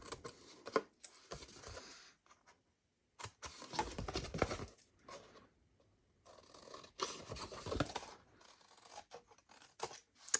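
Scissors snip through paper for a treat box, producing bursts of crisp cutting and rustling close by, separated by short pauses, with no voices.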